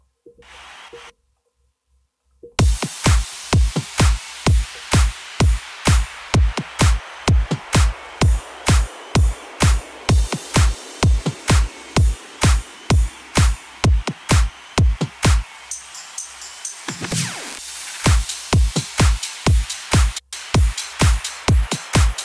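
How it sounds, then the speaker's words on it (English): Future Bounce drum loop built in FL Studio with panning effects, punchy kicks and claps hitting in a fast steady rhythm, with a sweep and a short break before the pattern drops back in loudly. "So we'll just play the effects on the drums"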